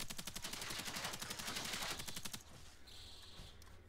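Rapid automatic fire from US weapons in the shooter game Generation Zero: a dense, loud burst of evenly spaced shots for about two and a half seconds, then it cuts off and only quieter background noise is left.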